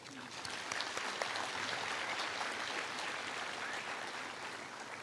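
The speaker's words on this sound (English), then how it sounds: "Can you give the team a round of applause?" Broad, distant applause fills a hall at a medical colleges admission ceremony for new diplomates, a steady wash of many hands, fairly faint and continuous.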